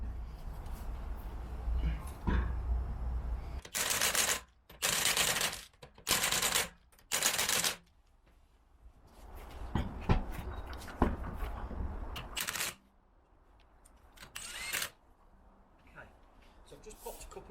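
A power tool, likely an impact wrench, fits the wheels back onto a BMW 1 Series under repair. Four short, loud rattling bursts are followed by scattered workshop clatter and knocks, with low talk in places.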